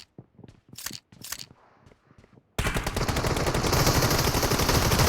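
An M1014 shotgun fires in a video game: a few sharp isolated reports, then a dense, loud, sustained burst of rapid gunfire for the final half.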